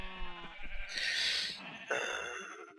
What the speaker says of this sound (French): j'ai ma réserve de moutons ici, cachée, creusée dans la roche